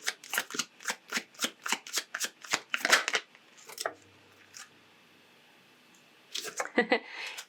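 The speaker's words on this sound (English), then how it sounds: "let's pull a couple of oracle cards and see if there's anything they would like to add or confirm" Oracle cards being shuffled by hand: a rapid run of soft riffling flutters and slaps, a pause with faint background, then another brief burst of shuffling, close and quiet.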